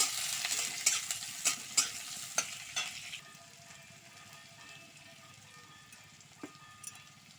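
Chopped onion and minced garlic fry in hot oil, a bright close sizzle with sharp stirring scrapes in the first few seconds that then settles into a quieter, softer simmer with an occasional clink.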